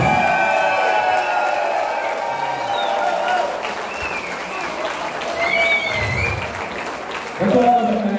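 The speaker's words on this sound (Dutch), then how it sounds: "Applaus!" Audience applause at a Dutch country music award ceremony, clapping and light cheering running steadily under music and a voice, swelling slightly near the end.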